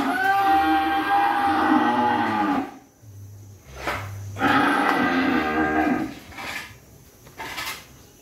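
Large beef cattle being fattened on a farm in Vinh Long, Vietnam, let out loud, close moos: one long drawn-out bellow, a short pause, then another deep extended moo with quieter calls after.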